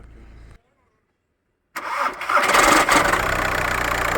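A used car's engine cranks and catches roughly after a short pause, then settles into a loud, uneven idle close to the microphone, with no talk over it.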